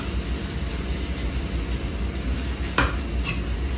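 Oyster masala stirred and sautéed in a pan, a steady loud sizzle with scraping stir strokes and a couple of sharper clanks near the end, no talking.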